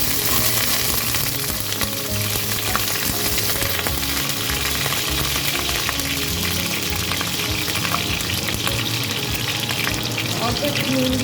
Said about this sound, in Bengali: আমি এই তেলের মধ্যে আলুগুলো ভেজে নেব।